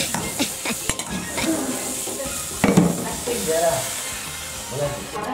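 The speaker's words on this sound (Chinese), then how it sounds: "一片一片这样煎啊" Slices of Fuzhou egg noodle pan-frying, a continuous close sizzle and hiss with scraping and stirring clatter of the utensil against the pan, while people chat over it.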